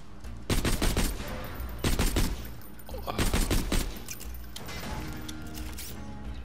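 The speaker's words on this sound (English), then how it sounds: "How about let's try this, but we have to shoot at the ground" Rapid bursts of gunfire from Borderlands 2 aimed at the ground, coming in three or four dense volleys separated by short gaps and ending in a steadier rattle.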